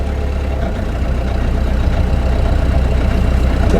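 Boat engine on the Norfolk Broads turning over slowly at about 700 rpm while cruising near Yarmouth, a steady, close, low droning rumble that runs continuously without rising or falling.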